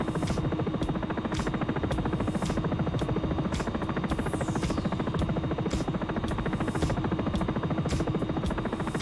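A Sikorsky S-76 helicopter in X-Plane 11 flies with its collective raised. Engine and rotor make a loud, steady, buzzing chop throughout, with no pauses.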